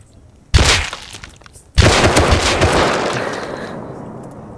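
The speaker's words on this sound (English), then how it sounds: "All I hear is gunshots." Two loud, close gunshots in a western shooter game, the first sharp crack followed by a second blast that rings out into a long decaying echo; no voices over it.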